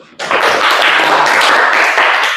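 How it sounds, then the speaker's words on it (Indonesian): A classroom of students claps hands during an Islamic religious education lesson, a sudden burst of fast, loud, close clapping that starts abruptly and keeps going evenly to the end. "Kasih tepuk tangan dulu."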